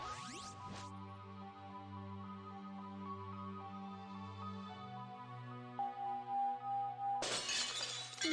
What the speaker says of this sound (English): We get the resonance frequency to shatter the glass.